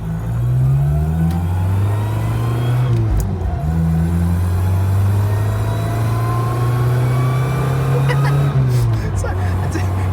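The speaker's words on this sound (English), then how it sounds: "I'm gonna shut up for a bit so we can hear this lovely car." Carbureted classic car engine heard from inside while driving, a loud steady drone that shifts pitch as it revs and changes gear, with a couple of brief dips and pops.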